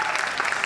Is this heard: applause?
yes